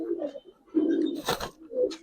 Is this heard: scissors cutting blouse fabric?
no